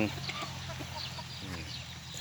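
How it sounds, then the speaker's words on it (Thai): Chickens and ducks at feeding time cluck in a steady low chatter, close by, with occasional sharper calls from the flock. "มีทั้งเป็ดทั้งไก่ครับ"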